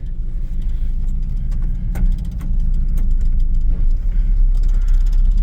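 A 1965 Ford F100 engine idles with the choke pulled, a close, steady low rumble with scattered ticks and a slight rise in level partway through.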